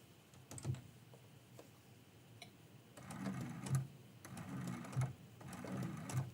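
Sewing machine stitching a quilt-as-you-go Christmas quilt block, running in short bursts of quick rhythmic needle clatter separated by brief pauses, close and moderately loud with no talking.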